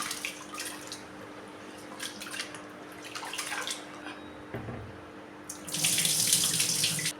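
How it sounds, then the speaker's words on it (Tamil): Tap water runs into a sink with intermittent splashing and sloshing as rice is rinsed, then the flow grows louder and fuller near the end. "பைப்பு திறந்து விட்டு நல்லா நாலஞ்சு டைம் கழுவிக்கலாம்"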